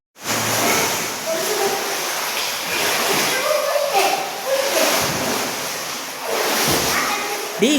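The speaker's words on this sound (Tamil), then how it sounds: "டேய் தண்ணி வெளியே வரைக்கும் வருது மாடு" Water splashing and sloshing, spilling over in bursts of broadband rushing noise, fairly close, with voices talking over it.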